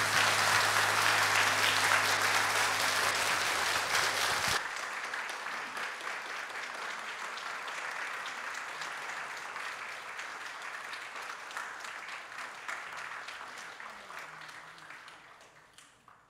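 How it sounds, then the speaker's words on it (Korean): Sustained applause from a church congregation after a singer's testimony, loud and steady for several seconds, then dropping in level and slowly thinning as the clapping fades out; a low tone sounds briefly at the start. "우리 선생님께 한 번 더 우리 뜨거운 박수 한번 부탁드리겠습니다"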